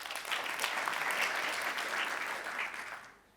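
An award ceremony audience claps together in a sustained round of applause, fairly distant and even, before the sound tapers off and fades out near the end.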